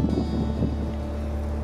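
Steady wind buffeting across an open Devon moor where Exmoor ponies shelter, a continuous low rumble close to the microphone with no other sounds.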